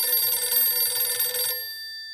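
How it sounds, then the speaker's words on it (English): An old-fashioned telephone bell ringing steadily and loud for about a second and a half, then cutting off to near silence. "is that the phone I hear ringing again?"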